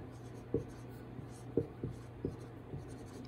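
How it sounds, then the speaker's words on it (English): Pen strokes on paper make faint, close taps and scratches, a handful of short marks spread unevenly over a few seconds, with quiet room tone in between. "I'll just write it down here."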